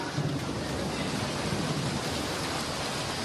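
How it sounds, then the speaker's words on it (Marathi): Heavy rain over the ghat hill region of Pune district pours down as a dense, unbroken roar of hiss, steady and loud throughout with no voices. "पुण्यातल्या घाटमाथ्याच्या परिसरात जोरदार पाऊस सध्या होतोय"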